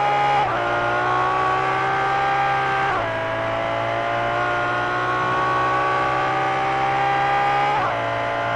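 A Ferrari race car engine in the Project Cars 2 racing game roars at high revs, with rising gear sweeps broken by two quick shift drops, steady and loud throughout with no talk.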